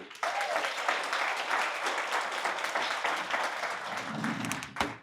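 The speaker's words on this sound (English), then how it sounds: "I ask you to offer a round of applause, please, for Kim Ang." An audience applauds at a press conference in Durham, North Carolina, a steady, fairly dense round of clapping starting abruptly, with a few louder claps near the end as it winds down.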